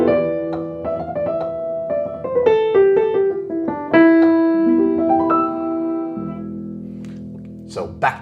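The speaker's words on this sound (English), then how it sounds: "So a dithyramb would sound something maybe like this." Dithyramb-style music in the Phrygian mode is played on keys as a lively melodic passage with overlapping notes and chords, shifting into a lower sustained drone near the end, with a brief voice-like sound at the close.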